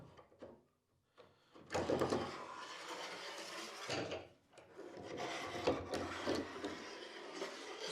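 Clamp sliding along the track of a plywood mitre saw stand wing, giving close scraping and rubbing wood noises with a few knocks, fairly quiet overall.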